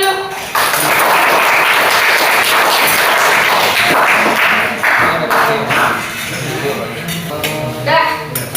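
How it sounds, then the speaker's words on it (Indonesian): Classroom applause during a trigonometry lesson, a steady wash of clapping from a group of students that runs for several seconds, with voices mixed in. "tepuk tangan dulu"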